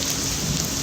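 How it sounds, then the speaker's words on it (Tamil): Rain in Maharashtra falls steadily, a dense, loud hiss of drops hitting surfaces at close range, brief and unbroken, with no voices. "இங்கே மகாராஷ்டிராவில் மழை ஆரம்பிச்சிருச்சு"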